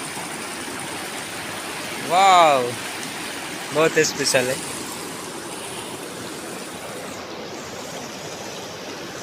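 River water streams steadily and loudly through the whole stretch as a broad constant rush, with a voice briefly exclaiming over it near the middle.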